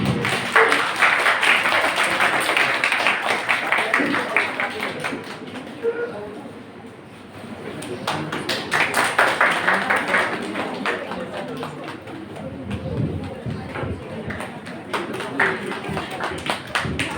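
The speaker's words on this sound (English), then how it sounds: "Please welcome them with a big clap" A large audience applauds and claps to welcome guests at an international seminar on a genderless society. The dense clapping swells, dips briefly and then resumes, with a voice speaking over parts of it.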